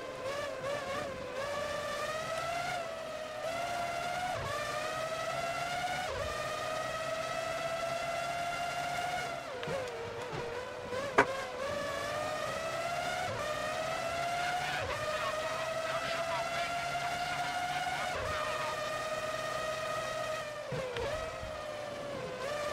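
Formula One race cars in the PS2 game Formula One 03 at San Marino scream through a lap, a high engine note climbing and dropping sharply with each gear change, with a brief click midway.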